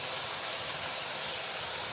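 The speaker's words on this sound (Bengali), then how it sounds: "পেঁয়াজটা ঢেলে দিলাম।" Onion tipped into hot oil for a spicy Bengali puti fish dish, giving a loud, continuous hissing sizzle that stays steady throughout.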